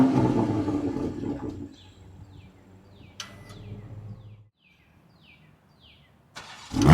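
A Toyota GR Supra 3.0 straight-six fires up with a brief burst and loud idle, then the engine note fades into quiet while birds chirp nearby, and a second rev flares up at the very end.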